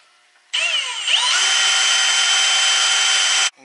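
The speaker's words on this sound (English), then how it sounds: "Drill them out, repeat the same thing for the other side" A power drill drills out bolts while fenders are installed on a 2015 Jeep JK. It whirs steadily for about three seconds, starting with a brief pitch rise as it spins up, then holding a loud, even high whine before stopping abruptly.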